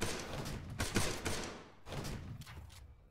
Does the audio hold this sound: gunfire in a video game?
yes